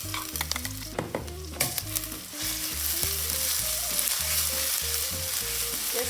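Onion and chili paste with curry leaves fry in a pan for a South Indian chutney, stirred with quick scrapes at first before settling into a dense, loud, even sizzle over background music.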